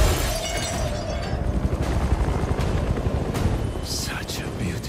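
A helicopter in the video game Marvel Spider-Man 2 gives a constant loud rotor-and-engine roar. Shattering and gunfire-like bursts sit on top, and a voice talks over it.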